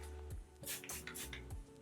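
A few short hissing spritzes of makeup setting spray from a spray bottle close by, quick bursts in a row, quiet and alone.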